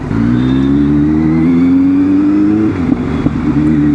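A car engine holds a loud, steady rev, a droning hum that rises gently, then breaks into a few sharp crackling exhaust pops and bangs near the end.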